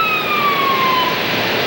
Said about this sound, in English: The sound of ambulances responding to cars spun out on the Blue Route